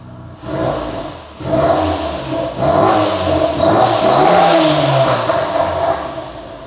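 A high-performance car engine revs hard up close in three or four loud bursts, each climbing and falling in pitch, with the last rev held longest before easing off.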